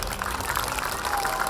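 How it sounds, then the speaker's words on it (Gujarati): Audience at a Satani family youth association gathering in Surat clapping to welcome the elders, a short, thick burst of continuous applause. "વડીલોને એક વાર જોરદાર તાળીઓથી વધાવજો"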